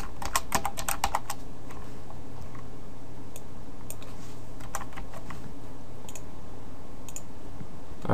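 Typing on a computer keyboard while coding an HTML5 page, with a quick burst of clustered keystrokes at the start, then sparser, scattered key clicks over a steady low room hum, close up and no voices.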